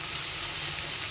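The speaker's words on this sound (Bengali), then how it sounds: "এখানে দেখুন ঢেঁড়স ভাজছি" Okra frying in a pan, a dense, even sizzle of hot oil heard close up and continuous throughout the short stretch, with no voices.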